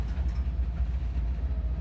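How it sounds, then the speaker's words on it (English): A train rumbles low and steady through the CSX rail yard in Corbin, Kentucky, a faint continuous drone with a soft rhythmic pulse. "Still a lot of trains coming and going"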